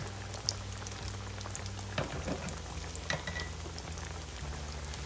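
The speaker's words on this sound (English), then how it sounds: "next I'm going to fry the breaded green tomatoes in the 375 degree vegetable oil" Breaded green tomatoes fry in 375-degree vegetable oil with a steady crackling sizzle and scattered pops, and a low mechanical hum runs underneath.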